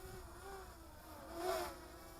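An XKJ K60 Pro lightweight GPS camera drone flies forward under rising throttle, giving a faint, steady buzzing whine that swells briefly as it heads up and away.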